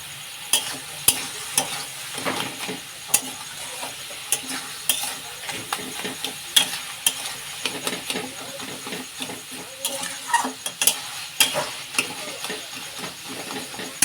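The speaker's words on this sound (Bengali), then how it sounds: "এবার নাড়িয়ে নিচ্ছি" Food frying in a pan stirred with a utensil over about fourteen seconds, a soft sizzle under repeated scraping and clinking strokes at an uneven pace, close and moderately loud, with no voices.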